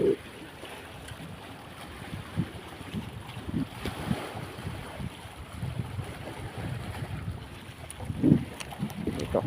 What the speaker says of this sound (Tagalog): Narinig ko yung motor.